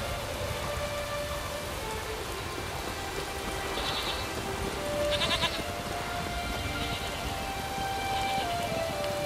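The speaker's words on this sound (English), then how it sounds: "Raining fucking buckets." Heavy in-game rain from The Witcher 3 pours as a steady, dense wash of drops hitting surfaces, constant and close with no voices, and a few faint, brief higher chirps drift through the downpour.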